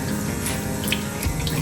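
Purified drinking water from an Itehil water purifier poured into a glass, a short steady splashing trickle heard close up with no talking.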